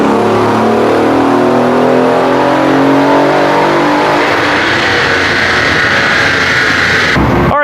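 A twin-turbo Mercedes M278 V8 revs hard on a dyno, its loud engine note climbing steadily in pitch before cutting off abruptly near the end.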